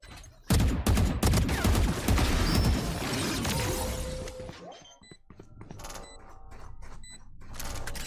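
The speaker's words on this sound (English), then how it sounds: "I love explosions." A blast in the tactical shooter Valorant bursts in loudly, followed by several seconds of dense crackling debris and rumble that slowly fade, leaving scattered clicks and small impacts.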